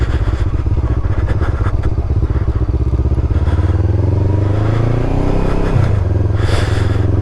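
A motorcycle rides off loose gravel, its engine droning loudly and steadily close by, with the pitch rising and shifting as it pulls away, along with some crunching and clatter beneath the engine noise.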